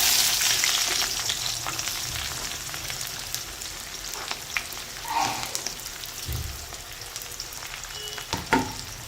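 Onion frying in a little oil alongside fried coconut gives a steady close sizzle that slowly eases, with occasional stirring scrapes and clinks and no voices.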